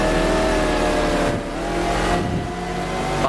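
Race car engine in a Le Mans 24 Hours video game pulling hard under heavy throttle, a loud continuous roar with gear changes and a brief dip in pitch between shifts, heard without talk.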